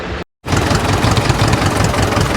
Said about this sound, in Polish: Praktycznie odpalamy ostatnie maszyny i będziemy ruszać w drogę.